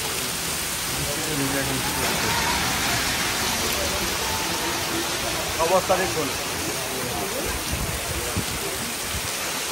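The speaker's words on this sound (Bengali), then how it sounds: "বৃন্দাবনে ভয়ানক বৃষ্টি হচ্ছে" Dense, heavy rain pours steadily in Vrindavan, a loud continuous hiss throughout, with a voice briefly speaking over it.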